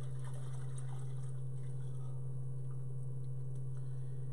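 Dry-aged beef stock pours steadily into a smaller pot, a continuous liquid trickle over a low constant hum, with no talking.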